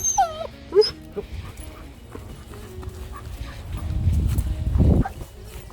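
A dog on a leash lets out a few high, wavering whimpers near the start of a walk, followed by steady scuffing and rustling movement that swells toward the end.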